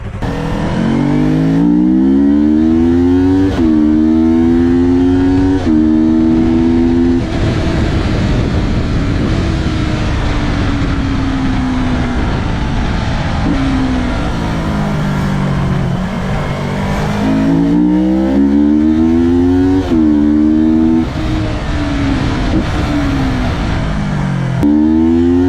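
Motorbike engine on a modified bike during a ride, loud and close, climbing repeatedly through revs with rising whines, dropping between gear changes, then accelerating again across a long stretch.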